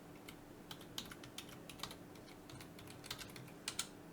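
Someone types code on a computer keyboard in quiet, irregular clusters of light key clicks close to the microphone, with brief pauses between bursts.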